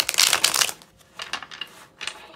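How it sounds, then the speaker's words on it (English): Tarot cards shuffled by hand in a quick riffle of crisp, papery flutters, a dense burst followed by two shorter bursts, close and alone. "Let me kind of shuffle these a little bit more."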